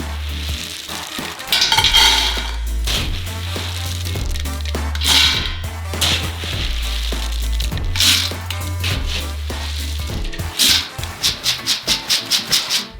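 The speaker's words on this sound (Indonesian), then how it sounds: "Tuang ke dalam panci." Roasted peanuts tumble into a pan in a large batch, a loud continuous frying-like rustle and clatter with rhythmic low scraping and stirring, ending in a quick run of sharp pulsed knocks.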